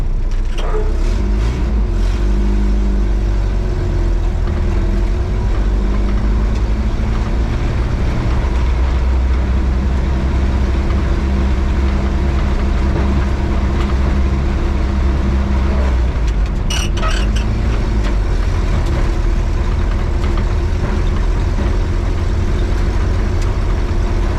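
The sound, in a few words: 1953 Willys Overland pickup truck driving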